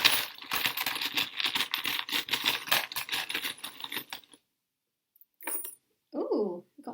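Metal charms are cast for a charm reading, a dense rattling clatter of small metal pieces tumbling close by for several seconds, then silence, a brief clink and a short voice.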